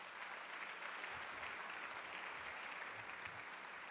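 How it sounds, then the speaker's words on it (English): Audience applause in a resort ballroom at a business leader of the year awards event: a dense, steady wash of many hands clapping, held at an even level throughout. "So a round of applause for them"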